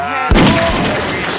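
A single sharp gunshot in the Grizzly Gulch video game fires after a short tonal lead-in, loud and close, followed by a lingering noisy tail with a faint voice nearby.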